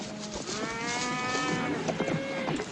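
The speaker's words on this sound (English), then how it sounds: "Cattle will be glad to get a drink" Cattle moo from a trail herd of the Old West as it nears water, long drawn-out lowing calls that overlap and carry steadily over a rumbling background with no voices.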